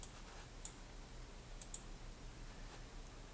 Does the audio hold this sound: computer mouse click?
yes